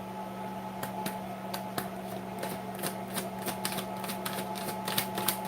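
A deck of tarot cards is shuffled hard, giving rapid crisp riffling clicks and snaps close to the microphone over a steady background hum.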